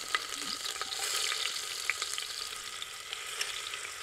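Onion fries in oil for a mutton head dish, a bright dense sizzle close up with small pops and stirring scrapes throughout, fairly quiet and with no voices.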